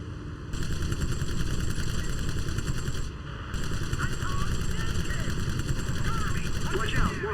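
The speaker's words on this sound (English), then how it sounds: "The flak is too heavy." Heavy anti-aircraft flak fire from the Wings of Prey flight game, a continuous loud barrage of rapid bursts under steady aircraft engine drone, briefly dropping away around the three-second mark before resuming.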